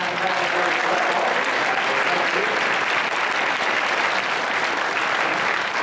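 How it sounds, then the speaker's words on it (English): Loud, dense applause from a large gala audience for award winners at the Taste Canada Awards 2017, steady and unbroken throughout, with faint voices mixed in beneath the clapping. "one more time, round of applause. Congratulations to all of our winners"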